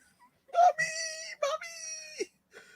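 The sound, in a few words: played clip of man screaming after hurting himself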